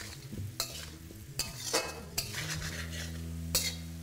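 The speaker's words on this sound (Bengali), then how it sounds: "এবার ফ্লেমটাকে লো রেখে আমি এটাকে ভালো করে মিশিয়ে নেবো।" Sliced tomatoes and spring onions stirred in a pan over a low flame, several short metal spatula scrapes against a soft sizzle, close and quiet, no speech.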